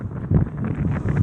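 Gusty wind blowing across a microphone outdoors, a steady low rumble with slightly stronger buffeting in the middle, no voices.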